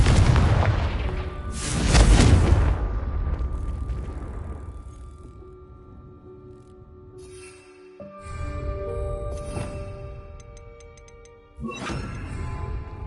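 A Confringo fire spell goes off in Hogwarts Legacy with a loud booming blast that fades into a lingering rumble, followed by further lighter impacts and magical whooshes.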